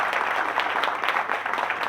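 Steady applause from a seminar audience, many hands clapping continuously at a moderate level with no pauses.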